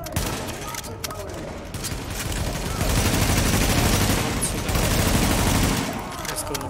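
Sustained gunfire in The Division, an apocalyptic third-person shooter, with a dense, steady fusillade of shots rolling on for several seconds while a player occasionally talks over it.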